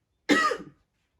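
A single sharp cough from one person, close and loud, lasting about half a second and followed by silence.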